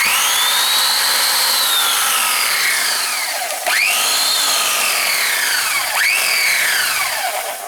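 Vintage Bosch rectangular orbital sander running steadily with a high whining hum whose pitch swoops and dips a few times as it speeds and slows, close by and alone without voices.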